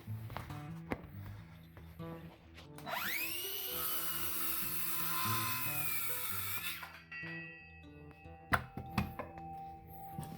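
A Craftsman 20V cordless circular saw spins up with a rising whine and cuts across a 2x12 board in one sustained, loud pass of about four seconds, then winds down, followed by clunks as the cut piece is handled.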